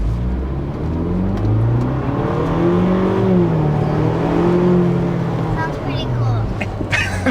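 A Ford Bronco engine revs hard and accelerates from a stop with a rising, throaty exhaust roar, loud and close, steady throughout.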